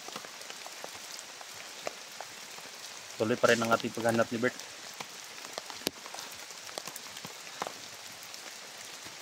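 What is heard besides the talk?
rain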